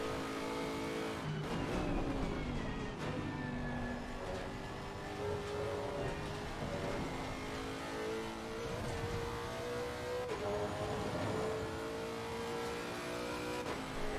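A Lexus race car engine in Assetto Corsa Competizione at Monza, loud and continuous throughout, rising and falling in pitch with revving, upshifts and downshifts, heard from close up with no talk.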